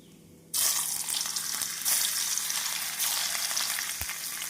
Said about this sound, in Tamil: நாம் உருளைக்கிழங்கை இப்படி நன்றாக இழைத்து கடாயில் எண்ணெயை காய வைத்து பொறித்து விடலாம்